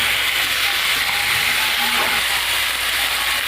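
Chicken pieces frying in a pan for chow mein make a steady, dense sizzle with a faint clicking texture, close and continuous throughout.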